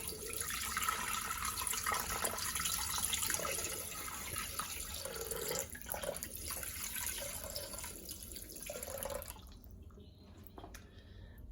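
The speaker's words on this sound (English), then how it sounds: "I think I'll put a litre in because that'll be enough to cover it." Tap water runs into a pot for cooking spaghetti, a steady close splashing stream that goes on for several seconds and then stops abruptly, leaving only faint drips.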